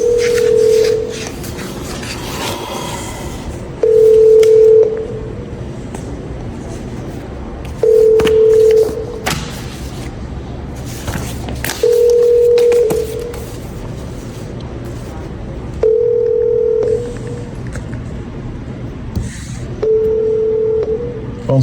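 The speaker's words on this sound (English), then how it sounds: "Phone's still ringing." A telephone call placed to a police department lobby rings out repeatedly, evenly spaced tones about every four seconds over background noise and some movement.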